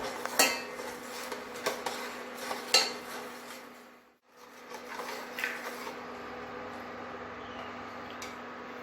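A utensil mixes ingredients in a pot for ginger tea, sending sharp metallic clinks and scrapes at close range, pausing briefly midway before softer stirring resumes.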